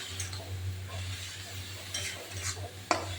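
Bathua greens with salt and turmeric being stirred in a pan: soft, steady scraping and shuffling over a low sizzle, ending with one sharp utensil clack against the pan near the close.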